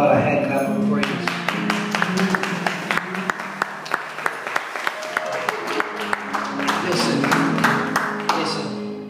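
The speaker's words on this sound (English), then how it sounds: "let's give God a hand" Congregation at a church service applauding in praise, steady rhythmic hand clapping carried over organ-like music and crowd noise, loud and continuous before tapering off at the end.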